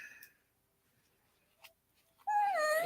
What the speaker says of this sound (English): That was dog.